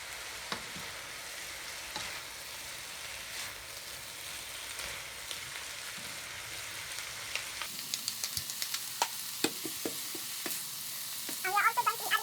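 Indonesian mee goreng noodles frying in a pan while being stirred, a continuous sizzle with repeated scraping and clattering strokes that grow sharper and more frequent toward the end.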